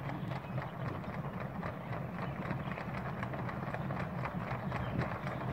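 Herd of horses, roughly a hundred or more, running across a bridge at a bronc riding school in Kaycee, Wyoming: a dense, continuous rumble of hooves, fairly faint and distant, with no talk.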